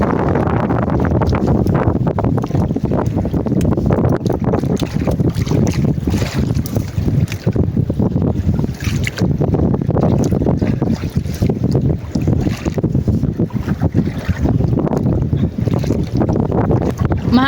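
Strong outdoor wind roars continuously and loudly, buffeting the microphone in heavy gusts with no pause.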